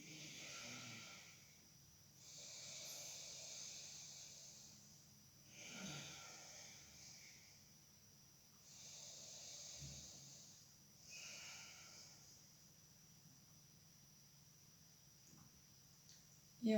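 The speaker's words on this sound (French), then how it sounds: "De nouveau 3 respirations Ujjayi." Ujjayi yoga breathing during a seated back-focused yoga session, slow audible breaths with a soft oceanic hiss, about four long inhales and exhales in an even rhythm, close and fairly quiet.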